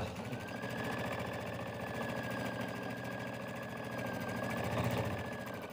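A sewing machine runs a steady stitch along the long side of a strap fabric folded in half, forming a tube, with an even mechanical whir and rapid needle pulses throughout.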